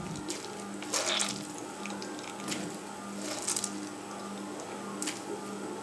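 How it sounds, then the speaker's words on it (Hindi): Grated onion squeezed by hand over a bowl, giving wet squelching and water dribbling out in a few short bursts against a steady low kitchen hum. "कद्दूकश की हुई प्याज अपने हाथों में लेंगे और दबा कर इसका जो एक्स्ट्रा पानी है वो निकाल देंगे"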